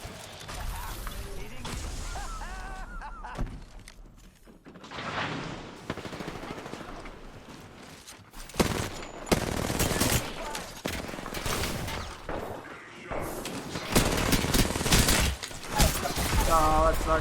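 Rapid automatic gunfire and weapon bursts from the video game Apex Legends, loud and dense with bursts through most of the stretch, under excited voices of players talking.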